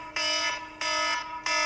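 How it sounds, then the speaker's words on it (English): A phone alarm goes off indoors, three loud, bright electronic tones, each about half a second long, with short gaps between them. "that's my alarm"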